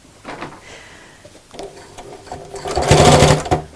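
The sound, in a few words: sewing machine stitching a quilted shopping bag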